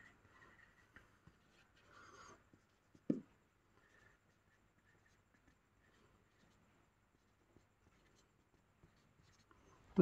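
A maths problem is written out by hand, with faint, sparse scratches and taps of a pen on paper in a quiet room, plus one brief louder knock.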